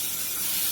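Pangas fish masala sizzles while being sautéed in a pan, a loud, steady, close hiss with no breaks.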